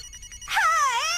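A cartoon mobile phone ringtone: after a short quiet lead-in, a bright warbling electronic melody rings out clearly and alone.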